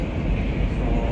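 A Tashkent metro train rides along inside a carriage, giving a continuous dense rumble and rushing roar that stays loud and even for the whole short stretch.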